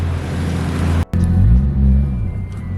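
A car with a Toyota 1JZ engine and HKS intake on a road test, its low rumbling engine note rising in pitch as it accelerates, steady and close with a brief cut near the middle, no talking.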